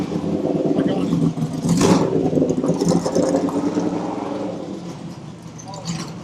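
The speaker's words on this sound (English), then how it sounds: "we'll wait for this car to go by" A BMW race car passes through a racing paddock with a broad engine roar that swells and peaks near the middle, then fades as it moves away. It is fairly loud, with some background noise around it.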